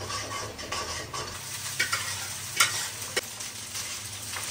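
Onions and chillies fry in a pan with a steady sizzle, while a spoon stirs and scrapes, making a few sharp clinks against the pan, with no one talking.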